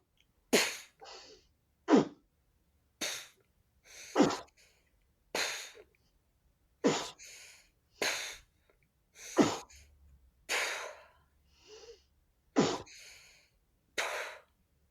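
Forced exhales through pursed lips in a breathwork exercise, each voiced like a drawn-out "wow": about a dozen sharp, breathy bursts, some doubled, spaced roughly a second apart, close and clear with silence between them.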